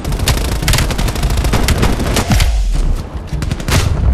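Shotgun fire in the video game Call of Duty Black Ops Cold War: rapid, loud, close blasts hit in quick succession, with a brief lull before the shots pick up again.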